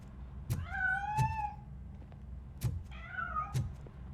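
Two drawn-out cat meows in the video game Robocop: Rogue City, each framed by sharp clicks, heard over a steady low hum.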